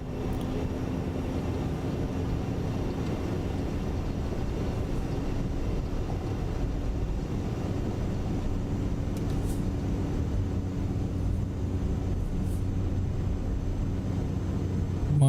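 Steady drone of a Black Square Cessna Caravan amphibian's turboprop engine at open throttle in Microsoft Flight Simulator 2024, a continuous loud hum with a low tonal line, holding constant throughout.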